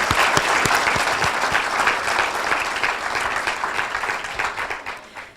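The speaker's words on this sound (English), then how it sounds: "Let's give them a round of applause." A crowd at a student recognition event applauds steadily, dense clapping filling the space at a consistent level before tapering off slightly at the end.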